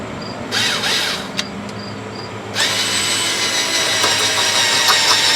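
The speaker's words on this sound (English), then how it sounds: "just get you a drill bit and a drill and go down in that hole" A handheld power drill bores out a plastic clip lodged in the hole of a 2003 Chevy Suburban front control arm, spinning up in short bursts, then running steadily and loud up close.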